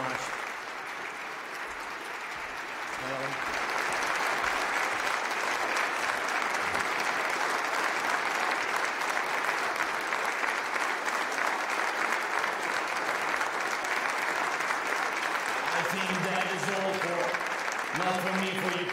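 An audience at the Munich Security Conference applauds to welcome Ukraine's President Zelensky, with sustained, dense clapping from a large crowd that swells after a few seconds and holds steady, while a voice speaks near the start and end.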